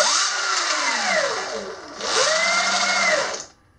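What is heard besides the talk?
Sur Ron Light Bee electric bike motor given throttle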